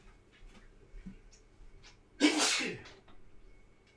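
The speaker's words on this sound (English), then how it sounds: "Convenient sneeze whilst I wasn't in the room." One sharp sneeze from a person at a workbench, loud and sudden after some quiet shuffling, standing alone with no talk.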